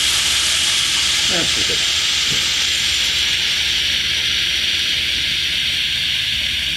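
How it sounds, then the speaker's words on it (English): Beet and broccoli rabe noodles sear in a hot pan, a loud steady hiss of steam and sizzle running throughout, with someone briefly speaking over it near the start. "I want a real sear on them."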